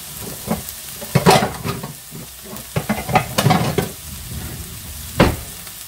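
Rabbit pieces browning in a pan for a mustard rabbit dish, with irregular stirring scrapes and clatters over a soft sizzle, a few louder knocks near the middle and a sharp clack toward the end.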